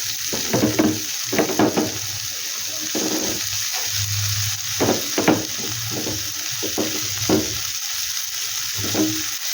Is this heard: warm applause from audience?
no